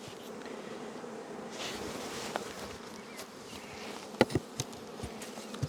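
Steady droning hum of many honey bees buzzing around a hive, continuous and fairly close, with a few sharper individual buzzes passing near.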